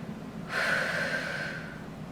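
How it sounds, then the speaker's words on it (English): A single audible breath, drawn in sharply during a Pilates reformer workout, rises partway through and lingers briefly over a low background hum without any talking. "Let's take a deep breath."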